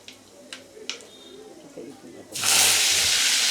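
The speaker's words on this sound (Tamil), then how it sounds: "கடுகு நல்லா பொரிஞ்சிட்டு போது" Mustard seeds and urad dal splutter in hot oil: a few sharp pops at first, then a sudden loud, steady hissing sizzle that takes over for the last second.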